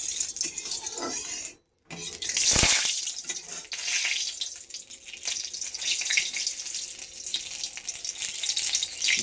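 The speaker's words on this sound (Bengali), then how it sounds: "আর তেলের মধ্যে একটু জল পড়েছিল, তাই নাকে মুখে ছিটে চলে এসছে।" Hot oil in a wok spits and crackles loudly after a splash of water hits it, with a brief silent gap before a sharp burst of sizzling that settles into a steady, close frying hiss.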